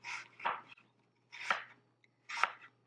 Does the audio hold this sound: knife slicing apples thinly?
yes